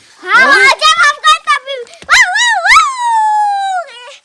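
A voice makes a wavering, drawn-out howling cry imitating a big cat's roar, after some quick excited vocal sounds.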